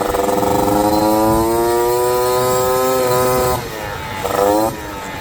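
A dirt bike engine runs steadily after a carburetor adjustment, giving a loud, close, buzzing drone that holds a constant pitch, then dips briefly and picks back up near the end.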